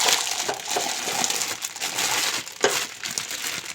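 A plastic bag holding melted chocolate crinkles and rustles close up, with bursts of crackling that rise and fall; no one speaks.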